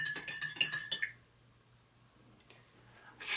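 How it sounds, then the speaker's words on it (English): A spoon stirs drops into a glass, clinking rapidly against the sides in a quick run of bright, close taps before quiet, then a faint later tap and a burst of noise at the end. "I'm gonna stir it with the spoon"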